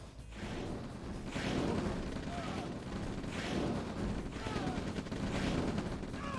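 Rifle infantry gunfire in the real-time strategy game OpenRA Red Alert, with bursts of shooting and battle noise playing continuously under a commentator's voice.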